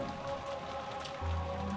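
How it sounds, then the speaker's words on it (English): Steady rain falls in the Umineko When They Cry game, an even soft patter on surfaces with a low tonal hum running beneath, brief and unbroken. "We can't do anything except pass the time listening to the sound of the rain until tomorrow morning."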